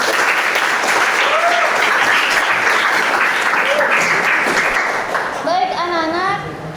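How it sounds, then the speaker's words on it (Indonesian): A classroom of high school students claps steadily and loudly, with children's voices calling out over the applause as it begins to fade. "Tepuk tangan."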